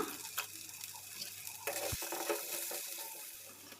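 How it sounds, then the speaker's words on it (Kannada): Spices, salt and chili powder with turmeric, fried in a pan and stirred close up, give a steady low sizzle with a few soft scrapes and taps and no talking. "ಉಪ್ಪು ಮತ್ತು ಖಾರದ ಪುಡಿ ಸ್ವಲ್ಪ ಅರಿಶಿನ ಪುಡಿಯನ್ನು ಹಾಕ್ಕೊಂಡು ಫ್ರೈ ಮಾಡ್ಕೊಳ್ಳೋಣ"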